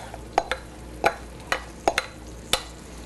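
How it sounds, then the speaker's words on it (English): A spoon stirs vegetables into a lean meat mixture in a pan, making six or seven sharp, close scraping knocks at irregular intervals over a quiet background, with no one speaking. "give it a nice little stir"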